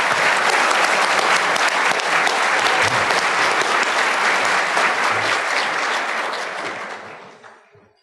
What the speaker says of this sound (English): let's give another round of applause for all our recipients and their accomplishments